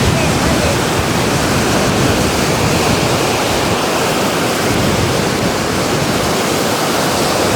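Ocean surf washing onto a beach during a family vacation at sunset, a loud, steady broadband roar of breaking waves and wind that fills the whole stretch without pause.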